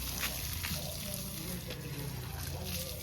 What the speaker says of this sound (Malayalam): ഇങ്ങനെ മതി വെള്ളം ഒഴിക്കണേ